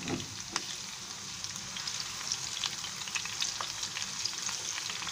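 Chopped onion frying in oil for a Bangladeshi prawn malaicurry, a steady close sizzle with faint crackles and a few soft stirring clicks throughout, no voices.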